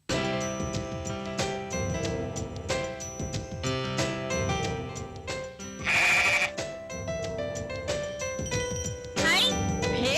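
A sheep bleats over busy background music with jingling, tinkling accents, repeated cries rising out of the dense, continuous score.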